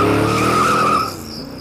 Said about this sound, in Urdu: گاڑی تیزی سے روانہ ہوئی تھی۔